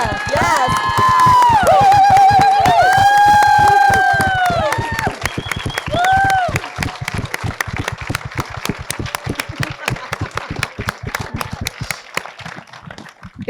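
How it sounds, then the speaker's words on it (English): An indoor audience claps and cheers for a film's cast and crew, dense applause with whoops and shouts, fading to scattered claps by the end. "Could everybody who worked on the film please just stand for a second so we can give you a round of applause?"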